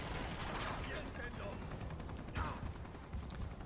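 Shotgun fire in the Uncharted game demo on PS4: several sharp blasts punctuate a dense, noisy mix of in-game gunfire and action, fairly loud throughout with no voices on top.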